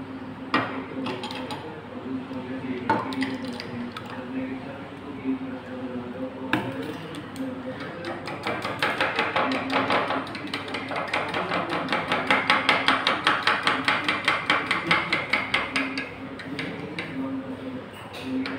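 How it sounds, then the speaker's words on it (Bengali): Egg pudding batter mixed in a bowl, giving steady rapid clinks and taps of a utensil against the bowl that grow busier and louder midway, with faint background hum. "আমি ভালো করে মিক্সড করে নেব।"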